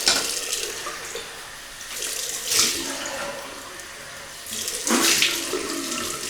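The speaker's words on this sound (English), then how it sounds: "Cold water rinse." Cold water runs steadily from a tap for a post-shave rinse, swelling louder twice as it splashes and hisses into a sink.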